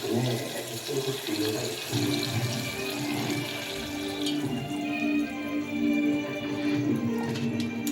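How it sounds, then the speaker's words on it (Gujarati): Water splashes and streams steadily into a pan of tomatoes and chillies while making Maggi noodles, a continuous close pouring sound with faint clinks and no talking. "હવે પાણી આપણે એડ કરશું"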